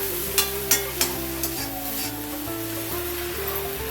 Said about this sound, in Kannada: ಇದನ್ನು ಎಣ್ಣೆ ಹಾಕ್ಕೊಂಡು ಒಂದು 2 ಸ್ಪೂನ್ ಹಾಕ್ಕೊಂಡ್ರೆ ಚೆನ್ನಾಗಿ ಅದರಲ್ಲೇ ಹುರ್ಕೊಂಡು ಕ್ಲೀನಾಗಿ ಬೆಂದೋಗುತ್ತೆ